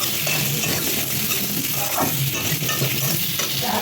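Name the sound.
potatoes frying with salt in a pan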